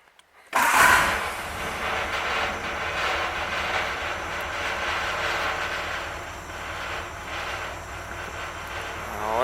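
A carbureted engine idles steadily in a shop after a cold start, with a continuous loud rumble and a rattle from something on the lift, sustained throughout with no talking.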